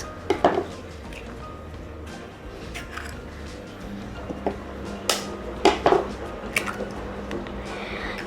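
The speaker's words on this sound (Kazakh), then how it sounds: "Енді жақсылап тұрып араластырып аламыз." Sour cream, sugar and two eggs are stirred together in a bowl to make the cream for a smetannik pie. Wet, squishy mixing sounds are punctuated by a few sharp clinks of a utensil against the dish.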